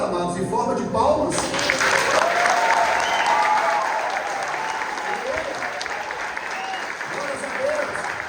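A church congregation bursts into loud sustained applause welcoming new members at a Christmas service, dense clapping from many hands with a few voices calling out over it.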